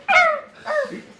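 A dog lets out two sharp, yelping barks close by during a Dungeons & Dragons tabletop game session, the second cry shorter and softer, with no talking over it.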